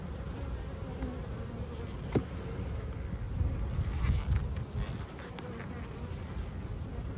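Honeybees buzz around a packed hive during an emergency split, a steady faint hum with a brief knock partway through.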